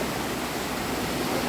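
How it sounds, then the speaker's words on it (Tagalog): A strong river in Saalbach, Salzburg, Austria rushes in a steady, dense roar of water, loud and continuous with no breaks and no voices. "Lakas ng ilog."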